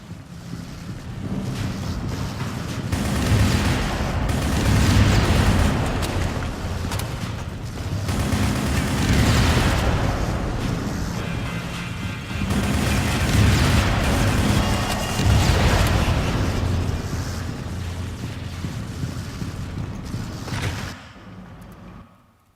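Booming explosion effects from the shooter game Shadowgun roll through in several loud, sustained waves of heavy low rumble and noisy blast, swelling and fading for about twenty seconds before cutting off abruptly.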